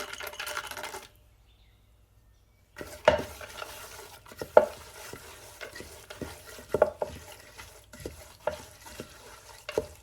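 Semolina halwa with whole almonds, pistachios and halved cashews is stirred in a pan: irregular scraping strokes and soft knocks of the spoon, with a brief quiet pause near the start.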